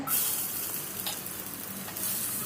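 Chopped onion sizzles in hot oil in a pan for a tomato chutney: a steady, close, broadband hiss with a few faint clinks and no talking.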